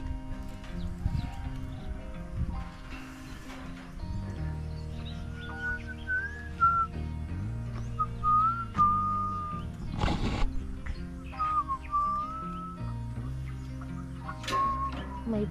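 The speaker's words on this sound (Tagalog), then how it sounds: "May pasipol-sipol pa." A person whistles a tune in short, clear melodic phrases that come and go over a low background hum and scattered household noises, standing out brightly in the middle and later parts.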